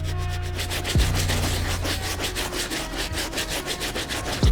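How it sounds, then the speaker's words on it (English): A medium-bristle brush scrubs the stitching of an Air Jordan 1 Storm Blue sneaker during cleaning, producing close, steady rhythmic scratchy strokes that repeat quickly and evenly throughout. "I do want to use this brush to try to focus my attention on all the stitching all around the shoe"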